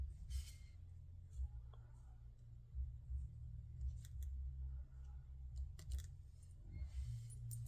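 Scissors snip through paper in a few quiet, scattered cuts over a low, steady background hum.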